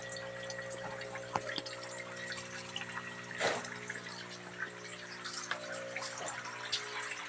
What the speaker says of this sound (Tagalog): Pampuno na dito sa pinalalagyan ko ng tubig, may parang gripo.